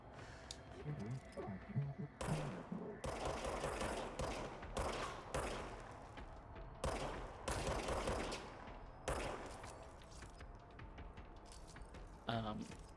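Bursts of automatic gunfire from a handheld gun in the game Control, sharp loud volleys separated by short gaps, with a quieter voice talking in between.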